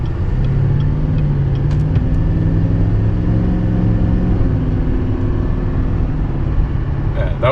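A 2022 GMC Sierra Denali 3500 pickup truck accelerates, heard from inside the cab as a loud, steady low engine rumble with a rising drone that holds continuously under road noise, with no talking.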